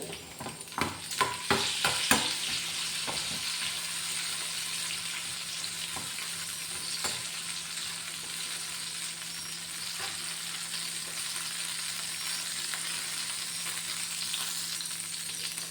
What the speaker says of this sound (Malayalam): ഈ വെണ്ടക്ക വഴറ്റിയിട്ട് ലാസ്റ്റ് നമുക്ക് ഇത്തിരി മുളകും മല്ലിയൊക്കെ വഴറ്റിയിട്ടിടാം